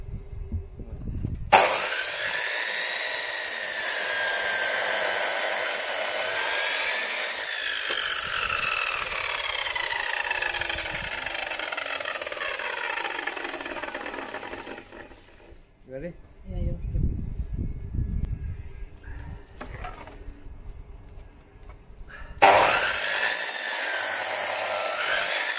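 A bench-mounted power saw cuts a wooden putter head, a loud sustained whining buzz running for about fourteen seconds, then a pause with clattering and someone talking, before the saw starts again.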